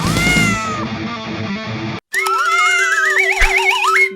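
A cartoon cat in an animated Hindi comedy lets out exaggerated, warbling meows, loud and close, in two stretches split by a brief silent cut, with a springy cartoon sound partway through the second.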